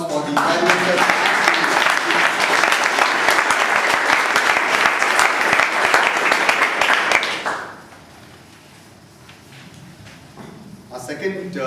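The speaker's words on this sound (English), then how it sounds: "let us give a big round of applause for the evaluators" Audience applause at a Toastmasters club meeting for the speech evaluators: a loud, dense burst of many hands clapping that lasts several seconds, then stops abruptly, leaving quiet room tone with a hint of voices.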